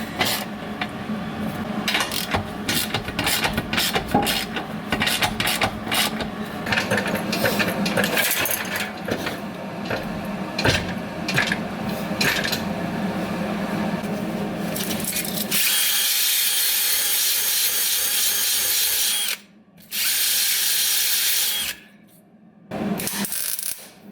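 A power tool tightens the nuts on subframe connectors of a twin-turbo Mustang, buzzing and rattling loudly in long bursts with metallic clatter, then giving a sustained high whine cut by brief stops, with no talking.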